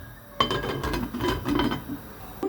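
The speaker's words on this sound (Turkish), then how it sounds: "Kapağını kapatayım." A metal lid set down on a cooking pot of rice and water in a home kitchen, a sharp clink followed by a brief rattle of metal and glass, close and alone.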